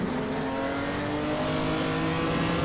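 A Ferrari engine in the Assetto Corsa racing game holds a steady, sustained rev, a continuous loud mechanical drone with strong harmonic tones and no speech over it.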